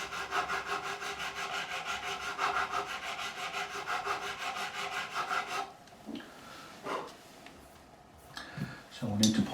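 A file works rhythmically across stainless steel guitar frets on a Harley Benton Dullahan, steady rasping back-and-forth strokes for several seconds before stopping, followed by a few softer scrapes and handling noises.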